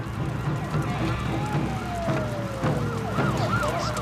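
An evacuation warning siren in Japan wails, rising and falling continuously over a steady rumble of street noise, fairly loud and sustained throughout.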